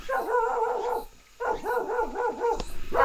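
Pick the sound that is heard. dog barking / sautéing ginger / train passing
dog barking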